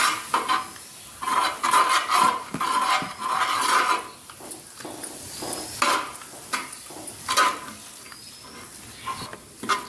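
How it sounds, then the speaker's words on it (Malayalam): Chilli powder, turmeric and garam masala are stirred in a pan for chicken curry: a sizzling hiss with repeated spoon scrapes and clanks against the pan, coming in uneven bursts up close. "നമുക്കത് നന്നായിട്ടൊന്ന് ഇളക്കാം."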